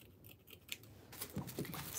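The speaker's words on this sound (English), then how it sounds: "I'm gonna measure it in half, and then I'm gonna cut it." Scissors snipping through stiff sinamay fabric while a bow headband is made, a few quick close cuts and rustles, soft and alone with no talking.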